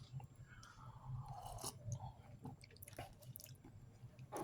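Close, faint chewing of crackers from a 2022 MCW ration chili mac meal, with soft crunching bites and wet mouth sounds scattered over a few seconds and no talking.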